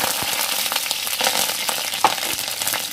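Curry leaves and mustard seeds fry in hot oil for orkaapuli pickle, a close steady sizzle dotted with quick crackles and one sharper pop, no one speaking.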